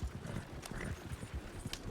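Horses' hooves clatter in a rapid galloping rhythm in the video game Red Dead Redemption 2, a continuous, fairly soft beat with no voices over it.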